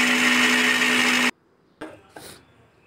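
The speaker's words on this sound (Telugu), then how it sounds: "పుదీనా, పచ్చిమిర్చి, వెల్లుల్లి, అల్లం వేసుకొని మొత్తం మిక్సీ పట్టుకోవాలి" A mixie blender loudly grinds mint, green chillies, garlic and ginger into a paste for vegetable pulao, with a steady whir that cuts off abruptly, followed by two short knocks of the jar being handled.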